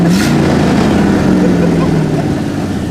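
Loud, raw limousine engine roars and revs close up with the exhaust unbolted, a harsh open exhaust drone that slowly settles lower.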